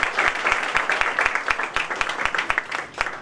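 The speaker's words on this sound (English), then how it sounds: "Please give a big round of applause." Audience applause at an incubation and innovation event, a few seconds of steady, fairly close clapping from a modest crowd with distinct individual claps.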